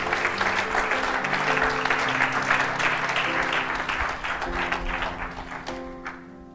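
A church congregation applauding in acclamation of Jesus, dense sustained clapping close and loud over a musical backing that continues as the applause fades at the end.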